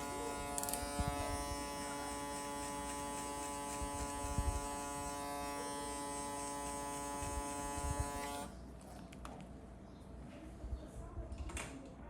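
Electric hair clippers with a number 2 guard buzz steadily and close while cutting a fade in a barbershop, then switch off, leaving quiet room sounds and soft movement.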